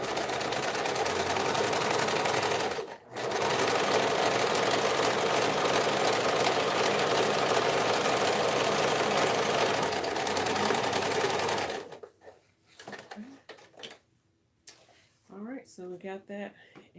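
A sewing machine stitching a tote bag runs steadily for a long stretch with a brief pause, then stops, leaving quieter handling noises and a few short sounds.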